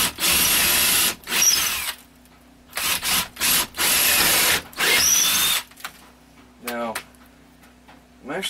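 A power drill fitted with an extended bit runs in several loud bursts of about a second each, starting and stopping in an uneven rhythm during tiny house work, with short gaps of quieter handling and a person speaking briefly between runs.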